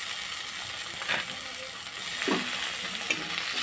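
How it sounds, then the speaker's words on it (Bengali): Chopped tomatoes added to fried onions sizzle softly in a pan nearby, with a few clicks and scrapes of stirring over the steady hiss. "আমি এর মধ্যে দিয়ে দেবো টমেটো কুচিগুলো।"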